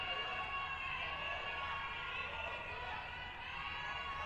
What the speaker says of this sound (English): You hear the crowd trying to get into it